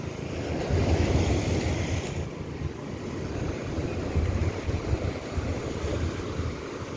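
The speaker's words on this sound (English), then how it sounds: "So this is Kalim Beach in Phuket." Ocean surf at Kalim Beach in Phuket, Thailand, makes a steady, loud wash of breaking waves with wind noise buffeting the microphone and no voices.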